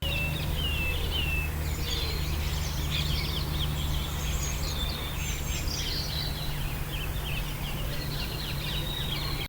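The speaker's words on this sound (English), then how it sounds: "This is the final recording, which is more birds in my garden" Birds chirp and trill in a back garden, thin and distant, their scattered calls repeating over a loud steady hiss of white noise that covers the whole recording.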